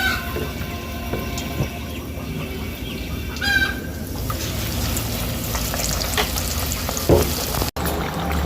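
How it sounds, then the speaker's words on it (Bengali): Eggplant fritters coated in spiced gram flour batter fry in hot oil with a steady close bubbling sizzle, over a background of distant train and rooster noise and a few clinks. "এখন বেগুন বেগুনিগুলো ভেজে নেবো"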